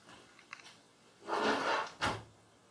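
A tool cabinet door, in a cabinet holding reamers, opens nearby: a few light knocks, then a broad scraping rub and a sharp closing-like thud, with no talking.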